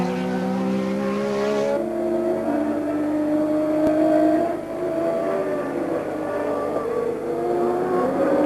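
Formula 1 race cars from 1983 scream past at the hot, humid Brazilian Grand Prix, a sustained high-pitched engine wail with shifting pitch as they race and change gears, loud and continuous throughout.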